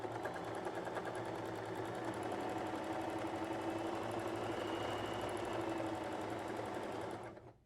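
Bernette b33/b35 sewing machine doing free motion quilting with the foot not holding the fabric: a steady, fast mechanical whirr with rapid needle clatter, close and continuous, stopping abruptly near the end.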